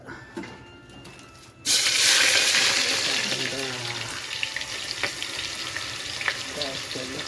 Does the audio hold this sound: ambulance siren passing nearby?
no